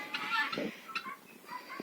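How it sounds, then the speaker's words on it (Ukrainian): Several harsh, raspy guinea fowl calls come in quick bursts at close range, overlapping one another with short pauses between. "і цесарки, ось вони такі крикливі"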